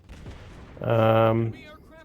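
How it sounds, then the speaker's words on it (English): Naval guns firing in World of Warships Blitz, a single sustained booming blast with a tonal ringing roar lasting under a second, loud and close over a faint background. "As you can see, I've got some smoke going, got the guns going."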